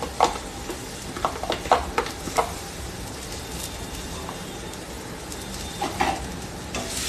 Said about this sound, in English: next I'm going to be adding a little bit of ginger and garlic